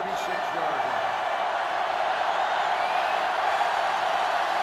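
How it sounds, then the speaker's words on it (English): A sellout stadium crowd in the NCAA Football 2005 video game keeps up a steady, loud roar that never lets up, with a commentator talking over it. "This sellout crowd is really making a difference now as these guys can't even call the play."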